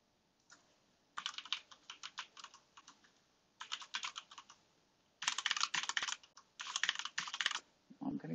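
Password being typed on a computer keyboard while installing Manjaro Linux 20 KDE, heard as bursts of rapid, close keystrokes separated by short pauses, with no talking.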